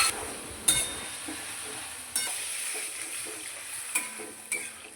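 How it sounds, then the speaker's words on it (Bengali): Potatoes and pumpkin sautéed with spices in a pan give a faint, low sizzle, broken by a few sharp spatula clinks and scrapes against the metal. "এবার মশলা দিয়ে কষিয়ে নেব।"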